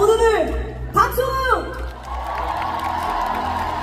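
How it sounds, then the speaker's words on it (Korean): A crowd at a concert in Seoul claps and cheers as a performer's voice rings out over the hall, the noise settling into a broad, sustained roar of applause and whoops. "자, 모두들 박수!"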